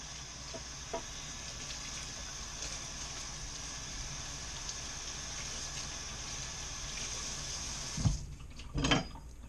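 Faucet runs steadily as freshly picked garden kale is washed in a sink, a soft continuous stream of water ending with a couple of clunks and a brief splash.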